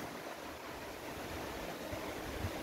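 A small, clear mountain stream flows in a steady, unbroken rush of water that stays even and fairly soft throughout, with no voices.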